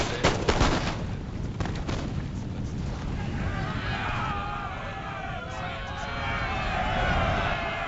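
Rapid musket volleys and artillery booms crackle through a Napoleonic battle video game during a last melee, dense and continuous, with a rushing roar building underneath.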